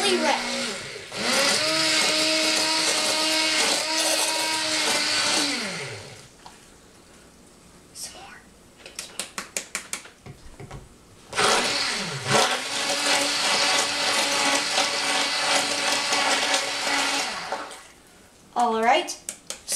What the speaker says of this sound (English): now Christopher will demonstrate immersion blending it until you think that it is fully ready